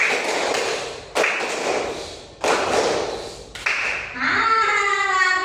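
Schoolchildren in a classroom clapping game, loud sharp bursts of hand claps separated by short pauses, with a voice coming in at the end.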